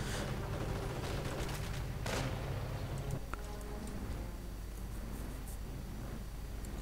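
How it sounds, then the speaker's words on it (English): Machine gun fire in a Company of Heroes 2v2 match, distant bursts and scattered shots over a steady battlefield din, fairly quiet, with one sharp crack standing out midway. "unleashing high explosive rounds of machine gun fire"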